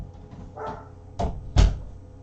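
Dogs bark indoors in three short separate bursts, the last two louder and sharper, over a low background hum.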